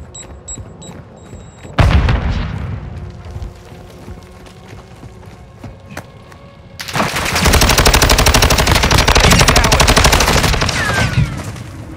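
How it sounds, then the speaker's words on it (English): In Call of Duty Modern Warfare 2 multiplayer, a grenade bursts with a loud, sudden boom. Scattered shots follow, then a long stretch of dense, continuous automatic gunfire. "Grenade! Throwing grenade!"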